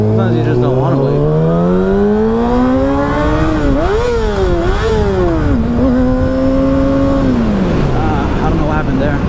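A Kawasaki ZX6R sport bike accelerates hard on a commute, its engine note climbing through the gears in rising whines with brief dips at each shift, loud and close to the rider.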